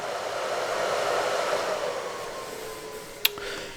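Steady broadband whooshing hum of a storage server's cooling fans, constant and fairly loud, with a faint tonal whine and a brief click near the end.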